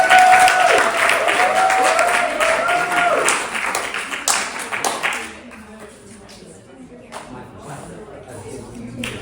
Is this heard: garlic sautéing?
no